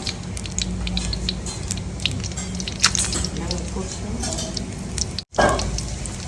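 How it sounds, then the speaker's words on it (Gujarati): Onion and whole spices (cinnamon, cloves, star anise, chillies) sizzle in hot oil for a cumin tempering, a steady frying hiss with sharp crackles and pops, close and loud, with a short dropout near the end. "આપણી જે ડુંગળી ફ્રાય થઈ ગઈ છે ને, હવે આપણો વઘાર થશે જીરાથી."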